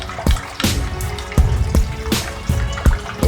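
Cold water poured into a vessel on a home brew day for a Mosaic pale ale, heard close up as an uneven splashing trickle broken by several sharp drips and plops, with no voices.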